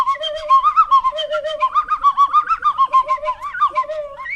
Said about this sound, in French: Les oiseaux-mouches se mettent à chanter les premiers.